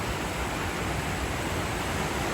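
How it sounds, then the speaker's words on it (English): Fast-flowing creek rushing over the brink of a waterfall, a loud, steady broadband roar of water heard up close with no other sounds. "And then there is the brink of the falls."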